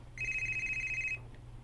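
A telephone rings once in a single warbling electronic burst lasting about a second, fairly close and clear over a low steady background hum, with no talking.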